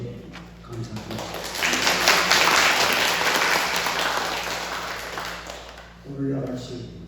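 A church congregation bursts into applause, building quickly to a dense, sustained wash of clapping that tapers off after several seconds, with a voice speaking briefly before and after it.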